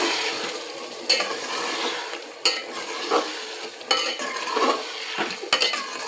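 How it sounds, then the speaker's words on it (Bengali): Marinated mutton is stirred in a clay handi pot, with repeated scraping strokes of a spoon against the pot over a steady low sizzle, close and fairly loud, with no voices. "তো দিয়ে দিলাম, নেড়ে চেড়ে দিই।"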